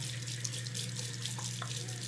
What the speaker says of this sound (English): I start off with warm water.